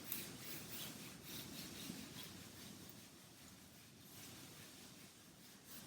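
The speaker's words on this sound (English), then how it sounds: "You need to rub your legs." Hands rub up and down a person's legs during a seated yoga session, making a faint, close, repetitive swishing friction with soft rhythmic strokes and no voices.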